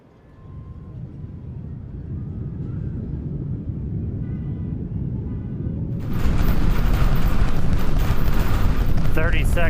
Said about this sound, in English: Seconds into flight, 33 out of 33 Raptor engines lit on the Super Heavy booster, arcing away from us here at Starbase.